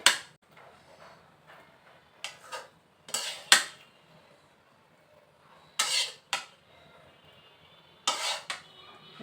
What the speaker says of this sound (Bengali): আমি বাটিতে বেড়ে নেব, বাটিতে বেড়ে নিচ্ছি যাতে শাকের কালারটা সুন্দর থাকে।